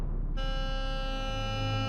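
An aircraft cockpit warning alarm sounds during an airliner's takeoff, starting abruptly as a steady, continuous electronic tone over the low rumble of the engines.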